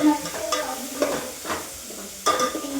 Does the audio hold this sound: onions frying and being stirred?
yes